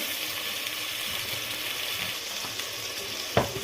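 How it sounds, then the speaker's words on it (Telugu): Ginger garlic paste with salt fries in a pan for a coconut rice dish, producing a continuous soft sizzle with occasional stirring scrapes and one sharper clack near the end. "అల్లం వెల్లుల్లి పేస్ట్ అనేది పచ్చివాసన పోయే వరకు బాగా కలుపుకోవాలి"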